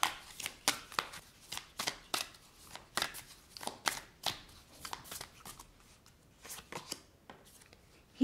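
Slippery tarot cards are shuffled by hand in a series of quick, crisp riffling flicks that come in an uneven rhythm, close and fairly quiet, with no talking.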